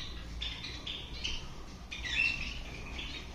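A pair of pet cockatiels chirping nearby, a few short bright calls and squawky tweets in quick bursts over a low background hum, with no talking.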